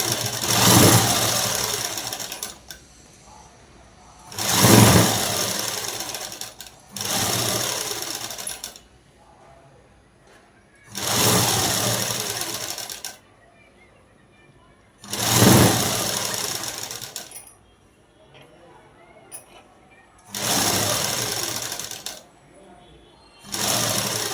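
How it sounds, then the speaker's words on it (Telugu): A sewing machine runs a top stitch on a nightdress in six steady bursts of a few seconds each, loud and close, with quiet pauses between runs and no speech. "ఇప్పుడు ఇటువైపు తిప్పేసి పై కుట్టు అనేది వేసుకున్నాము"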